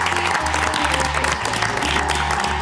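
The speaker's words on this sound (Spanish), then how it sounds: "Fuerte aplauso, señores, para Hans Puyer." Steady crowd applause on a celebrity cooking show set fills the whole stretch, dense and continuous, with a low sustained musical tone running underneath.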